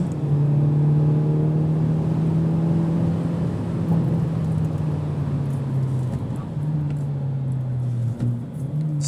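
A 2023 Hyundai Elantra N's turbocharged four-cylinder engine on a track, holding a steady droning tone close up, then dipping briefly and climbing again as the car pulls through a corner.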